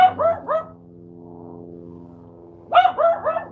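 A small dog barks up close in quick bursts, a cluster of three yaps, a pause with a faint low whine, then another rapid run of three or four sharp barks.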